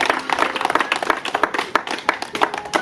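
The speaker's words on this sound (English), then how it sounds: "give her an applause now, please" A small group claps in quick, fairly quiet scattered applause for a woman, with brief patter of hands and no clear talk.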